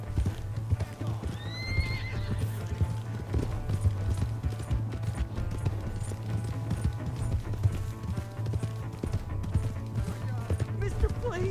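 A horse in Red Dead Redemption 2 runs with steady rhythmic hoof clip-clops and lets out a high whinny early on, close and prominent throughout.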